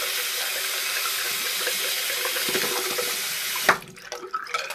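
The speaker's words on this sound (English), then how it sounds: "So now what I want to do is I want to rinse my brushes." Water runs steadily from a tap while makeup brushes are rinsed, a continuous splashing hiss that cuts off abruptly near the end, followed by a few faint drips and small handling sounds.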